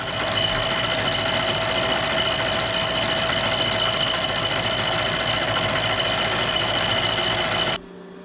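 A milling machine cuts metal while making table index keys for a dividing head and foot stock. A loud, steady, whirring mechanical drone with a constant hum runs for nearly eight seconds, then drops abruptly to a quieter idle.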